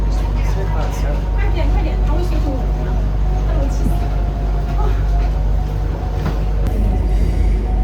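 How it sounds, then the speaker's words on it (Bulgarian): Steady low rumble and rattle of a moving Bangkok subway car with constant rolling noise and occasional squeaks, voices murmuring faintly underneath. "Ние сме в метрото"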